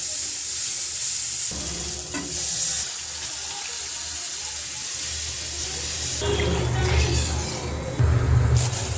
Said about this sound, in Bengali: এইদিকে মাছের মাথা ভাজা হচ্ছে